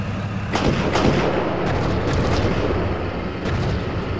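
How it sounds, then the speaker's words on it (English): Autocannon fire from CV-90 infantry fighting vehicles in the Steel Beasts Pro PE tank simulation, a loud sustained rumble of distant booms with several sharper reports punctuating the roar. "Are those our CV-90s that are engaging with autocannon?"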